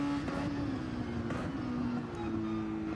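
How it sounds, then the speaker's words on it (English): In a sim racing video game, a race car engine drones steadily at a high, sustained pitch, a continuous motor tone that holds level throughout with no voices. "So also the car sounds lovely."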